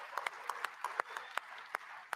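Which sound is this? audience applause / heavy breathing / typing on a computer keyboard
audience applause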